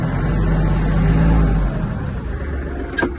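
A Kubota GL-260 Japanese mini tractor engine is revved in second gear, a loud, close, steady diesel drone with a deep low hum that eases slightly partway through.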